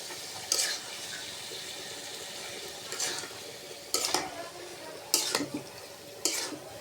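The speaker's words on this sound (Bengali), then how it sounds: "আলু কষাবো এখানে লুচি খাওয়ার জন্য আলুর দমটা আর কি কষাবো। দিয়ে দিলাম আলুটা গোটা গোটা করে।" Whole potatoes cooking in a spiced masala in a pan for aloo dum, with a steady low sizzle and a few sharp scraping stirs of a utensil against the pan at irregular intervals.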